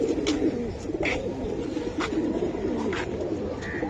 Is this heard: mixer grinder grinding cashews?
no